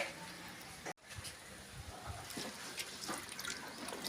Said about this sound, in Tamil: பனங்கிழங்கு எல்லாம் அலசி எடுத்துக்கலாம்.